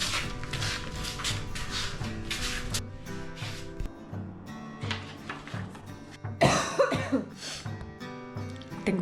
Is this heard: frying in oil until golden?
no